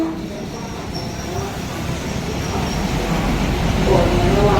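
Train pulling into Mahachai railway station in Thailand on a weekday-off afternoon, a steady low rumble and rolling rail noise that swells gradually louder as it approaches, with a faint squeal riding above.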